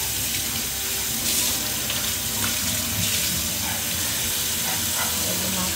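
Running tap water pours steadily over freshly cut fish pieces in a kitchen sink, a continuous close splashing hiss with no pauses and no one talking.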